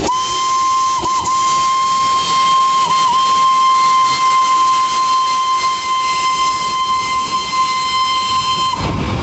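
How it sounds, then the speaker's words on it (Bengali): A Darjeeling toy train's steam whistle blows one long, loud, steady tone that holds for about eight seconds with a couple of brief dips, over a hissing railway background. "ট্রেন আবার বাঁশি বাজালো"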